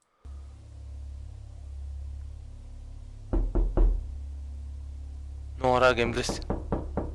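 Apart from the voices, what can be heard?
knocking, sounds like someone knocking at the door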